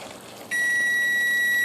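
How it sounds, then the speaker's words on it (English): A kitchen timer goes off while a sausage skillet lasagna cooks, a single sustained electronic beep tone starting abruptly after a moment of quiet room sound and holding steady, loud and close. "there's the timer."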